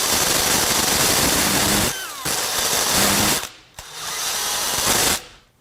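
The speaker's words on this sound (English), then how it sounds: "I know that sounds like I'm in hammer drill mode, but I'm just in drill mode." Corded drill fitted with a Champion hole cutter boring through metal, a loud harsh grinding rattle in two long bursts separated by short pauses, with no voices.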